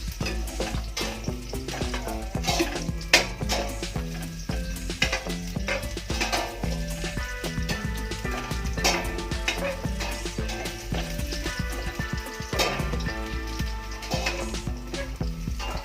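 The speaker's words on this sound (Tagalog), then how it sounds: "Medyo brown na yung ating bawang. Lagyan natin sibuyas." Garlic browning in a pan with onion added, a steady close sizzle with clinks and stirring scrapes over a continuous frying hiss, no talk.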